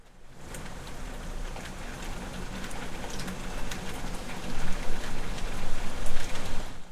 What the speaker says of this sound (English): I don't know if you can hear the rain.